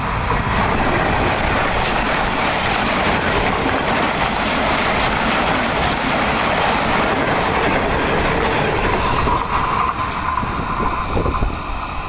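Subak Kharam railcar passenger train, led by locomotive GEU 24564, rushing past at speed with a continuous loud roar and clickety-clack of wheels, very close and unbroken throughout.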